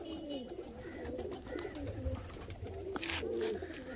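A female Neely Joda pigeon coos in repeated low, throaty rolls, close and clear for several seconds, with no voices over it.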